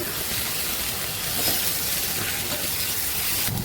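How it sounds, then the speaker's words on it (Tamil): Vegetables roasting with chilli powder in a hot pan, a constant dense sizzle with faint stirring scrapes, close and fairly loud, ending with a short clatter. "கொஞ்சம் வறுத்து மிளகாய் தூள் போடுறேன். கிளறி விட்டுட்டு"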